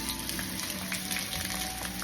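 Plenty of onions frying in a pan for Filipino beef steak give off a steady, dense sizzle that stays even and close throughout, with no talking.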